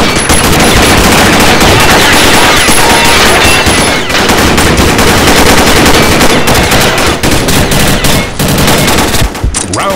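Dense, continuous automatic gunfire in the shooter Combat Arms, a capture-the-flag match on the Death Room map without explosives, with rapid bursts and overlapping shots filling the whole stretch at high, unbroken intensity.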